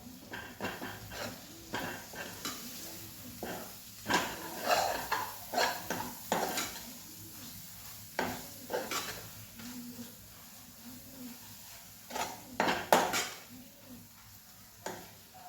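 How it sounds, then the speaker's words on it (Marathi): Kitchen King masala is stirred into a potato and pea curry in a pan, giving soft scraping and tapping of a spoon against the metal over a faint background sizzle. "किचन किंग मसाला, मिक्स करायचं आहे."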